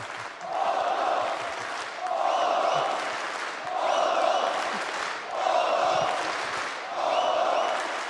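An esports crowd at IEM Katowice 2016 in Poland cheering in a large arena, a loud rhythmic chant rising and falling in five even bursts about every one and a half seconds.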